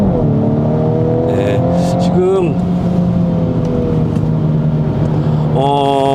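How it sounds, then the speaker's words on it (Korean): Mini Countryman JCW driving under acceleration in manual mode, a loud continuous engine drone inside the cabin with rising pitch and a shift break, heard alongside steady road noise. "이게 수동 모드에서는 업시프트를 하는데도 업시프트를 하는데도 약간의 변속 충격이 느껴질 정도로 스포티합니다."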